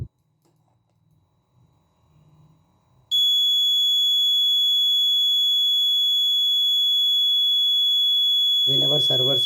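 An MQ2 and MQ6 gas sensor air pollution monitor built with an Arduino and ESP8266 sounds its buzzer alert, a loud, steady high-pitched electronic tone that starts abruptly after faint murmuring and continues unbroken, with a voice speaking near the end.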